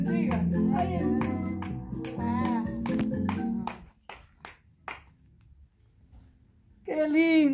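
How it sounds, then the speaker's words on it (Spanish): A small child claps for a couple in a run of sharp, uneven hand claps close by, partly under adult speech and music at first, then alone in the quieter middle, before a voice returns. "Ahí está dando un aplauso al Pedro y a Sebastiana"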